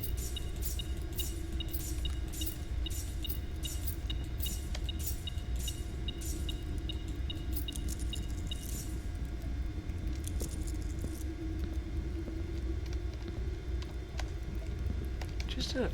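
Keys jangle in Blue Prince with rapid metallic clinks repeating for several seconds over a steady low hum, then fade as the game's ambience continues.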